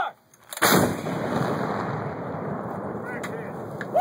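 An artillery gun fires a single loud direct-fire shot, a sharp blast followed by a long rolling rumble and echo that slowly fades outdoors, with light wind noise around it.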